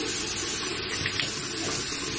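A water tap runs steadily into a sink for rinsing the mouth after flossing, a continuous close hiss and splash with no voices over it.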